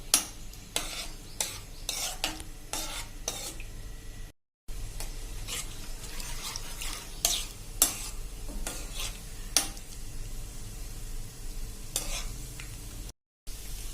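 Cashew and almond pieces sautéing in ghee for semolina laddus, a gentle continuous sizzle punctuated by frequent spoon clicks and scrapes against the pan, close and fairly quiet, with two brief silent cuts.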